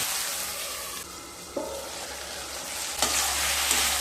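Potato and ridge gourd pieces sizzle loudly and steadily as they fry in a pan, with a few clanks and scrapes of a stirring spoon.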